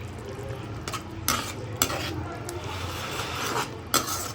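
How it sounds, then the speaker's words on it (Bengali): Fish curry with coriander leaves and a drizzle of mustard oil being stirred in a pan: a steady low sizzle runs throughout, with a few sharp scrapes and clinks of the spoon against the pan. "আর কিছুটা পরিমাণে ধনেপাতা দিয়ে ভালোভাবে নাড়িয়ে নিচ্ছি"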